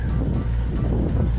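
A boat engine running at about 2,000 RPM while the vessel travels under autopilot, a steady low rumble mixed with wind buffeting on the microphone, heard briefly and continuously with no talk.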